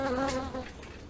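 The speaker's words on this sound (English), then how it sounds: "There's a bee right here." A bee buzzes in a casual art video game, a short continuous droning hum that stays steady and fairly loud before thinning out toward the end.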